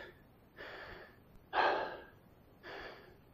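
Heavy breathing from a 59-year-old man after a dumbbell workout: three loud, breathy gasps, spaced about a second apart, close up in a quiet room.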